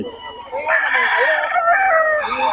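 A young rooster (stag) crows loudly and close by in one long drawn-out call, with a faint hum of the yard underneath.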